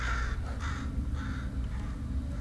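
A bird in the video game Portal Stories: Mel gives a run of harsh, crow-like caws, about five repeated calls over a low rumbling background. The calls are loud and close, with no talking.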